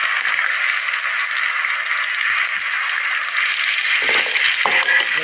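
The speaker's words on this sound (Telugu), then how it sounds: "సిమ్లో పెట్టి అలాగా బ్రౌన్ కలర్ వచ్చే వరకు వేయించుకుందాం" Onions and green chillies fry steadily in hot oil on a low flame, a continuous close sizzle with a few brief stirring clatters near the end.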